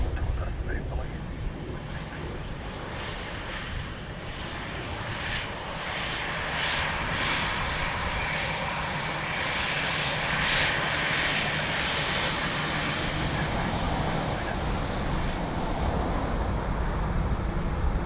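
Aircraft arriving at Dublin Airport, heard as a steady, continuous jet engine roar that holds at a fairly even level throughout, mixed with wind-like broadband noise.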